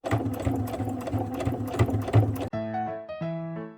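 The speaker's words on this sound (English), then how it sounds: "I'm just gonna start by hemming it, because what do I have to lose?" A sewing machine hums steadily while hemming fabric for an Easter basket, running close for a couple of seconds before cutting off abruptly, and a few clear tonal musical notes follow.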